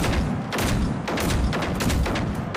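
Gunfire in the video game Generation Zero: dense, overlapping bursts of shots and rumbling reports that fill the whole moment at a steady loudness, with no voices.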